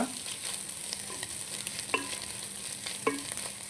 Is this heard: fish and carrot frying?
yes